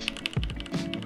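Computer keyboard keys pressed during a CS:GO match, a quick run of close, light clicks and taps with a louder thud partway through.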